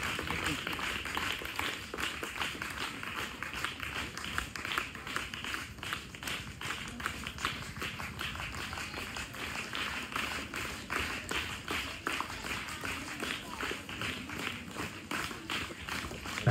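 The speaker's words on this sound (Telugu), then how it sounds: "చప్పట్లు కొట్టండి." An audience at a school prize ceremony applauds steadily and evenly, a dense patter of many hands carrying on without pause at moderate, slightly distant loudness.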